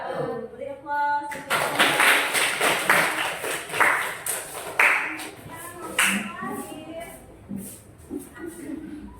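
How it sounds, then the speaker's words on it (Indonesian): An audience claps after a school group presentation, a fairly close burst of applause that starts strong and tapers, with voices talking and murmuring over the clapping. "Beri aplaus."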